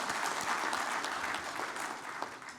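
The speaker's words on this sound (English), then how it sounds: "Ladies and gentlemen, another round of applause for Mr." At an aviation stakeholders convention opening ceremony, a hall audience gives sustained applause, a dense, even patter of many hands heard at a moderate distance, slowly thinning toward the end.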